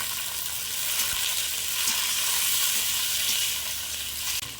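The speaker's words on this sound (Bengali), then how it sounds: "এবার দিয়ে দেবো টমেটো কুচনো" Chopped tomato goes into onions frying in a pan for a spicy hilsa fish curry with potato and eggplant, giving a steady, close, broadband sizzle with faint stirring ticks and no talking.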